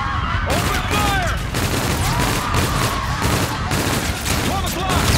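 Dense automatic gunfire rattles continuously through a Call of Duty Infinite Warfare firefight, with overlapping bursts, whizzing shots and battle noise. Voices shout over the barrage.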